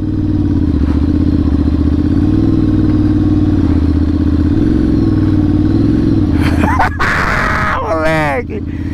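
Ducati Monster motorcycle engine idling with a steady, loud, throbbing hum, then a rough clattering burst and a shout as it revs near the end, with people talking over it.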